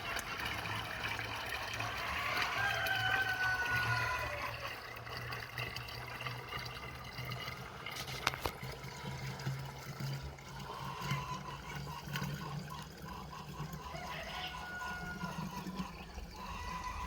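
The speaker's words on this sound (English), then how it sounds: "We're going to fill up. We're going to be doing 2 gallons of water right now." Water runs steadily into a 2-gallon container for a garden cabbage pest-control mix, a continuous moderate gushing and filling sound with no talking.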